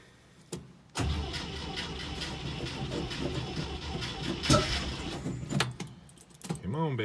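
A 1964 International Scout 80 engine cranks and catches after a sharp click, then runs at a rough steady idle with a brief rev, with faint voices talking near the end.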